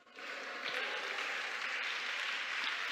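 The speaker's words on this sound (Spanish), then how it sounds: "Si ese aplauso para Dios" A church congregation applauds during a Christian teaching, with steady, dense clapping that swells quickly and holds at moderate loudness.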